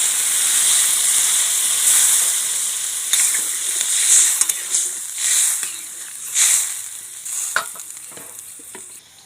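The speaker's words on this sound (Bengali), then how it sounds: "এবার জল দিয়ে দিচ্ছি" Water poured into a hot pan of prawn curry sets off loud hissing steam and sizzle, up close, swelling in several bursts and then settling as stirring scrapes continue.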